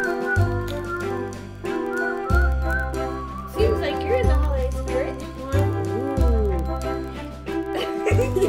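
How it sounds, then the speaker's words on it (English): A person whistles a bright, wavering tune while making a Christmas glitter craft, with a repeating low bass-heavy music loop underneath and occasional light speech. "Works better if you whistle while you work."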